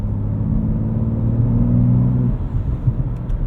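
A turbocharged inline-six in a 2025 BMW M2 with a six-speed manual revs hard at full throttle, a loud steady rumbling drone that holds for about two seconds, then eases off as the engine note drops.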